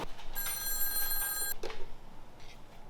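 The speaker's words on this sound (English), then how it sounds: "the adventure phone is ringing" A telephone bell rings in one long electronic burst, followed by a short clunk and a faint second ring starting.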